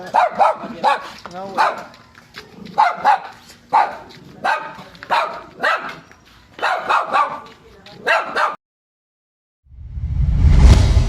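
A noisy pet dog barks repeatedly in quick, loud, close bursts for most of the stretch, then falls silent before a brief low rumble at the end.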